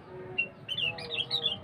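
A sooty-headed bulbul (trucuk) sings a few quick bright chirping notes, close and clear, with short gaps between phrases and no talk.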